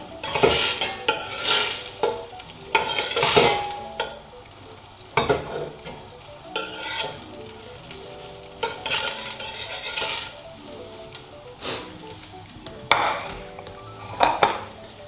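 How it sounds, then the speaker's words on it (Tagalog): Garlic sizzles in melted butter in a pan, with repeated bursts of stirring and a utensil scraping and clinking against the metal at irregular intervals, loud and close, no talking. "Since natunaw na yung butter guys, maglagay na tayo ng bawang. Sautay lang natin siya ng mga 3 minutes until mag-golden brown."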